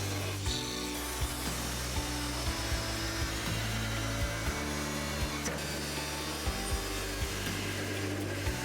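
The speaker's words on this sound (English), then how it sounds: "Use your cutting tool of choice to make this cut." A cutting tool slices through the metal heat shield of a 2013-2019 Cadillac ATS, making a continuous gritty grinding drone over a low mechanical hum with faint periodic pulses, and nobody speaks.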